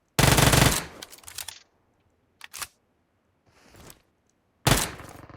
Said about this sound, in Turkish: Boşa mermi atmayayım dedim yine attım.